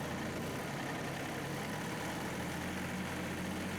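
A John Deere 2038R compact tractor engine runs steadily at PTO speed, a loud, constant diesel hum with a throaty low rumble and no change in pitch, close to the microphone.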